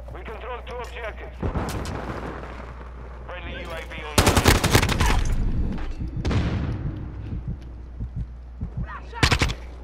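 Bursts of automatic gunfire and heavy booms from a Call of Duty Modern Warfare II Domination match at Breenbergh Hotel, loud and close, mixed with a player talking over the in-game shooting.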